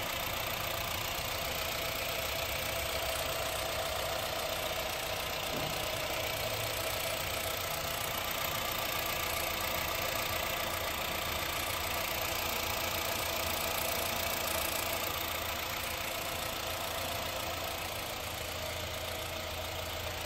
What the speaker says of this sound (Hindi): अभी मैं आपको गाड़ी का साउंड भी सुना देता हूँ इंजन का